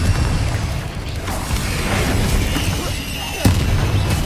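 Spell blasts from Incendio and Confringo in Hogwarts Legacy crackle and boom in a busy, continuous battle mix, with one sharper impact standing out near the end over rumbling low noise.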